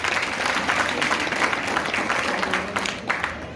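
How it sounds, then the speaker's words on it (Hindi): Audience applause at a business event: a full crowd claps steadily and loudly throughout, a continuous textured wash of many hands with a slight easing near the end, no speech. "मैं आपको रिक्वेस्ट करता हूँ उनके लिए एक बार जोरदार तालियां बजाइए"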